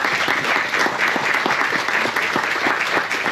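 Audience applause for a singer at a televised French music show, a steady dense clapping from a crowd holding at an even level throughout, with no talk over it.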